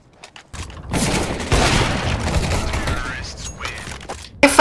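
Gunfire bursts in Counter-Strike: Global Offensive, a dense volley of shots running almost continuously with a loud blast near the end, mixed with in-game sounds.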